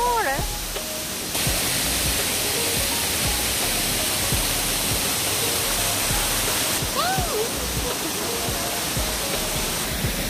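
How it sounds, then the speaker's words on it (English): A wide waterfall in Takachiho Gorge, Miyazaki, Japan, keeps up a loud, steady broadband roar from start to finish, with voices talking over the rushing water now and then. "Wide waterfall."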